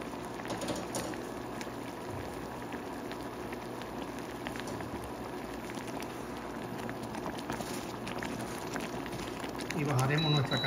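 A thickened liquid simmers in a pot on a stove, giving a steady soft bubbling hiss throughout, with someone speaking over it near the end.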